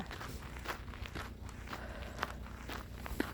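People walk outdoors on a path with thawed, soft ground, their footsteps making a steady series of soft crunching steps, close and fairly quiet, without any talking.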